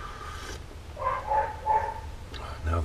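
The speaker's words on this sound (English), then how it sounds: "dogs are barking." A dog barks a few times at moderate distance before sunrise, short separate yelps spaced about half a second apart over a quiet background.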